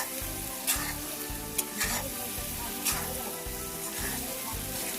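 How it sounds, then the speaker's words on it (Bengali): Shrimp being stir-fried with turmeric powder in a pan for a Bengali shrimp bhuna gives a steady, close sizzle, broken by repeated scraping stirs and a few sharper clinks of the spatula. No one speaks. "হলুদ গুঁড়া দেওয়ার পরে আবারও চিংড়ি মাছগুলো নেড়ে নেব"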